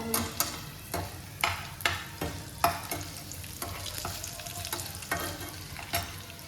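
Curry leaves frying in a pan give a continuous sizzle punctuated by repeated crackling pops and spatters, close and fairly loud, with no voices.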